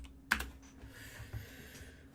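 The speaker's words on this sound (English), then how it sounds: "Apologies for my keyboard." A loud computer keyboard clatters in a few quick bursts of keystrokes, close and dry, with a sharp click near the start and softer tapping after.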